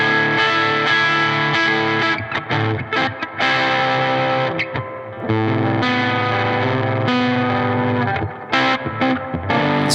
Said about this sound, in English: you can also get spitty sounds with the fuzz that you love